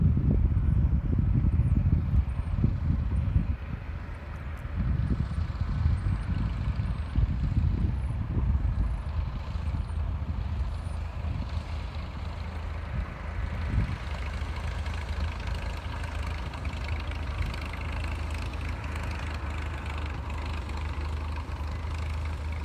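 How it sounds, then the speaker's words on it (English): A Victa Airtourer piston-engine light airplane taxis, its engine a steady low droning hum that stays fairly even throughout, heard close and continuous with no talk. "So this is a piston engine airplane, not a turboprop, just in case you're wondering."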